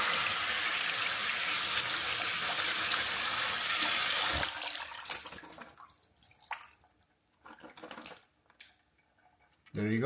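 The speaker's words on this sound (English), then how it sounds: "That's how you wash your berry." Blueberries in a holed plastic container are rinsed under a running kitchen tap: a steady loud rush of water for several seconds, then quiet shaking, dripping and splashes.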